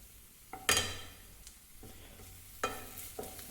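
Onion sautéing with crushed ginger and garlic in a pan for a prawn masala: soft sizzling under a few sharp spoon scrapes and clinks against the pan, spaced apart, close and fairly quiet.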